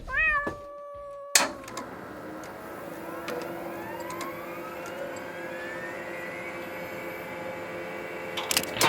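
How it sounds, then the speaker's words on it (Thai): A cat gives one clear meow nearby at the start, then a steady mechanical whine and hum take over while camera lights and stands are set up. "ก็มีแมวมาดูด้วย"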